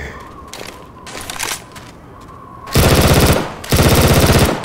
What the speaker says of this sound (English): Going with the machine gun.